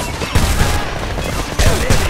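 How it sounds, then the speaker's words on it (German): Rapid bursts of gunfire from the Homefront shooter game, loud and dense, with sharp volleys of shots clustered near the start and again toward the end over a constant roar of battle. "Ich habe 5 Schuss abgegeben."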